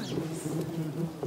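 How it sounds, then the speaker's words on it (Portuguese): A honeybee swarm buzzes steadily and close, a dense continuous drone with no voices over it. "Quando pega um enxame desse aqui, ó, um enxame abençoado desse, aí precisa realmente de proteção."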